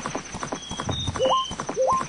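Epona, the horse in Zelda: Majora's Mask, gallops with steady clip-clop hoofbeats while jumping fences, two rising squeal-like tones over the rhythmic game audio.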